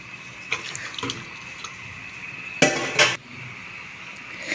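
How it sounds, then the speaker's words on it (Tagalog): Coconut milk poured into a cooking pot, with a few brief liquid splashes and clinks against metal, including two louder bursts midway, against quiet background. "ilalagay natin yung gata dito sa kaldero"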